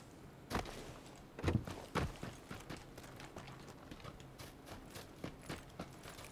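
Player footsteps in PUBG Battlegrounds, a steady series of thudding steps that are louder at first and then continue more quietly and evenly, with no talk over them.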